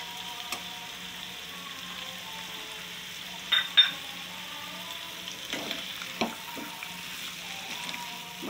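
Chana dal frying in a pan with a spicy red pumpkin dish, a faint low sizzle under a quiet hum, punctuated by a few clinks and scrapes of stirring and a soft pour, no voices.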